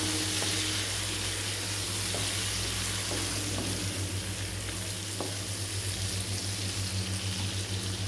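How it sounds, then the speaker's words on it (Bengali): Thin, long-sliced potatoes sauté in hot oil for a Bengali kajoli fish curry, giving a loud, continuous close-up sizzle and hiss with occasional faint stirring clicks and a low steady hum beneath. "আলুটা আমি একটু ভালো করে কষিয়ে নেব"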